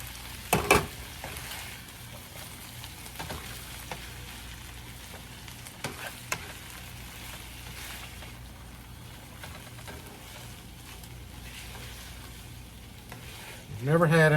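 Butter and home fries frying in a pan, a steady soft sizzle running throughout with a few brief stirring clatters and a louder burst near the end.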